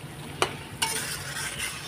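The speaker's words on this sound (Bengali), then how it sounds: "এখন আমি কষিয়ে নেব।" Spices being sautéed in a pan for Bengali chana dal: a soft, steady sizzle with two sharp scrape-clinks of a stirring spoon early on, fairly quiet and with no talk.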